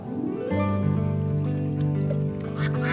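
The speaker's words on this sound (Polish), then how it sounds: "Tam są jakieś kaczki." Ducks quack in a cartoon pond scene, several bright nasal calls repeating over a sustained musical backing, close and fairly loud.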